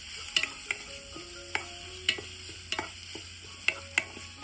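Cut potato pieces stirred and sizzling in a pan while a Konkan-style dry fish dish is cooked, with a soft steady fry and regular sharp clinks of a spoon against the pan.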